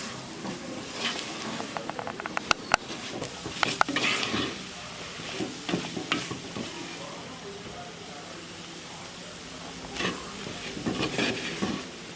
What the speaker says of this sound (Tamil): நம்ம இந்த மாதிரி மண் சட்டியில் நம்ம ஊறுகாய் தாளிக்கிறோம்